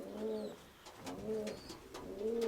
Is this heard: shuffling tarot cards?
no